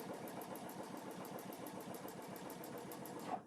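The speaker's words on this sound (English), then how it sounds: "I'm just gonna come in here and sew for a little while" A sewing machine stitches quilt blocks for a layer cake ladder quilt in a fast, steady, even rhythm that is faint and close, ending with a short bump and no talking.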